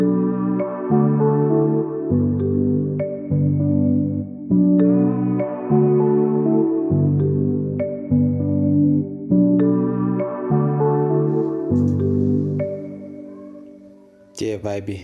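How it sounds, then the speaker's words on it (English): A warm Afrobeat loop built in FL Studio, with a marimba playing a repeating melodic pattern over steady bass and chords, looping evenly and loud with no voice over it. "So for the bell, I actually switched it to this marimba"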